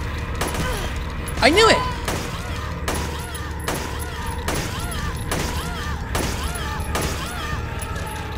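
Enemy gunshots in the video game Silent Hill 3, sharp single shots repeating at roughly one-second intervals under game ambience, while a player exclaims briefly over them.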